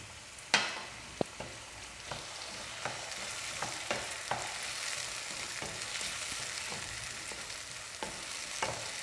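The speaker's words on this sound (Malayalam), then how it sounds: "അരിഞ്ഞ് വെച്ചേക്കുന്ന ടൊമാറ്റോ ഇതിനകത്തോട്ട് ഇടാം." Chopped tomato dropped into frying onions in a pan for aloo matar curry, giving a steady bright sizzle with sharp spoon taps and stirring clicks scattered throughout, close and with no talk.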